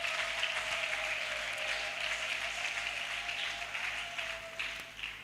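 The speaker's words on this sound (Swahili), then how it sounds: "Mpigieni makofi sana huyo mama." Audience applause at a church office building inauguration, a steady distant patter of many hands clapping that fades slightly near the end, heard faintly with a low hum underneath.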